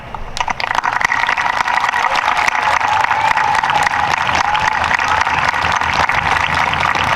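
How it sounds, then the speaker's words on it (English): A large audience at the 2023 East Hartford High School graduation claps for the faculty, a loud, sustained wash of applause with faint cheering mixed in, no speech over it. "if you would stand up so we could give you a round of applause, we'd appreciate it"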